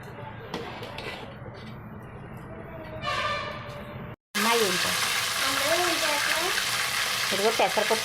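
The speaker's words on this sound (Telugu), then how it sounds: "నూనె వేసాను ఆవాలు వేసాను జీలకర్ర వేసాను" A hot pan sizzles and crackles up close as mustard and cumin seeds hit the oil, with a voice talking over the frying.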